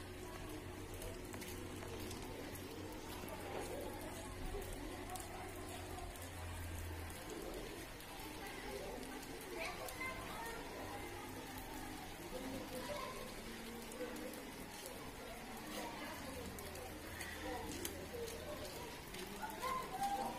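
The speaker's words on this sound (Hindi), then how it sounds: "हो रही है झमाझम बारिश" Steady rain patters outdoors with a constant hiss, while birds coo faintly in the background and a low hum drifts in and out.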